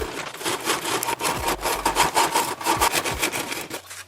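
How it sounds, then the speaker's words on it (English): A handsaw cuts a groove around wooden slingshot prongs with steady rasping back-and-forth strokes, close and fairly loud throughout, no talking. "Now I'm going to use this handsaw to cut a groove all the way around the prongs."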